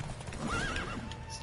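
A horse in the fantasy video game The Witcher neighs in a drawn-out whinny over the steady clip-clop of its hooves, fairly close and clear.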